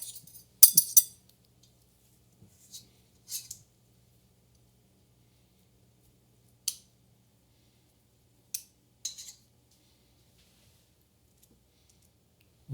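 Spooning gluten-free cookie dough with white and dark chocolate onto a baking tray: a handful of sharp, isolated metallic clicks and scrapes separated by long quiet gaps, close and fairly faint.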